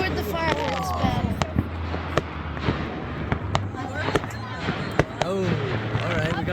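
Fireworks bursting during a back-and-forth fireworks battle seen from a boat, sharp irregular pops and crackles with whistling streaks, under a steady low hum and voices talking throughout.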